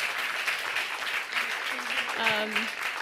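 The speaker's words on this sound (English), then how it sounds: "Let's give Nina a round of applause." A studio audience at a talk show applauds actress Nina Dobrev in a brief, steady burst of many hands clapping, with a voice speaking over it near the end.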